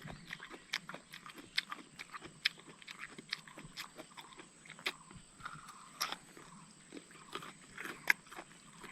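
Close, quiet crunching as someone bites and chews firm, unripe fruit with green peel, a steady run of small crisp cracks and wet chewing over a faint background hiss.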